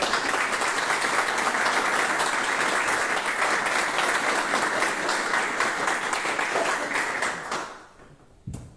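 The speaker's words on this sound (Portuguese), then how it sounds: "Primeiro uma salva de palmas para" An audience bursts into sustained applause at a council meeting, dense clapping holding steady for about seven seconds before trailing off to a few scattered claps.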